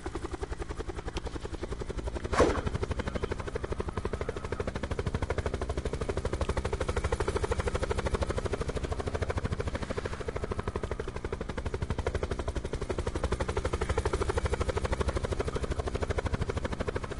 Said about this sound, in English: Go next to this other chopper.